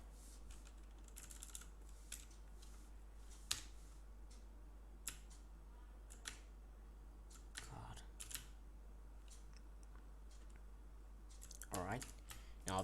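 Quiet, irregular keystrokes on a computer keyboard while coding, soft clicks arriving in short bursts and scattered taps over a steady low electrical hum.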